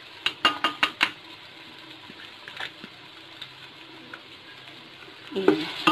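A spoon clatters against a pan several times in quick succession as ginger garlic paste is stirred into softened oil and tomatoes for a shahi mash daal, followed by faint sizzling and a few softer scrapes.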